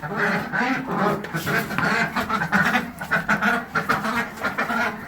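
Young ducks on a homestead quack and chatter constantly up close, a busy overlapping flock of calls with no pause.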